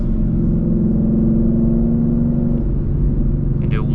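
A Ford Mustang engine rumbles steadily at mid revs as the driver downshifts with the paddle shifters, a loud, continuous drone with a faint, brief squeak near the end.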